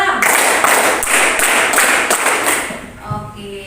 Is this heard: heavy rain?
no